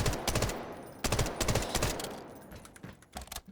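Bursts of automatic SMG 45 fire in the Delta Force shooter game come in several quick, loud strings separated by short pauses. The final bursts are fainter and scattered.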